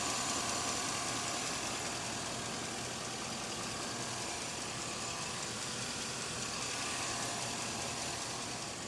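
Trade-in car engine idling close up, a steady, continuous broadband rumble and hiss at even loudness throughout, with no talk over it.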